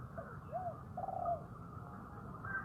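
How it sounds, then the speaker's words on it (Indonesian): A few soft, distant spotted dove coos drift over quiet low background noise, each call a short rounded note. "ada burung tekukur sekarang"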